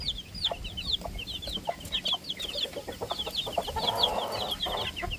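A Rhode Island Red rooster clucks repeatedly in short, close bursts over the rustle and murmur of a crowded coop, with other chickens audible nearby.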